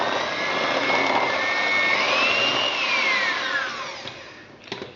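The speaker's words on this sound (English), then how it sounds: "So again, whisk it up." An electric whisk whines steadily as it beats sponge cake batter of eggs and flour, its pitch rising and falling as the mixer works, then tapering off with a few knocks near the end.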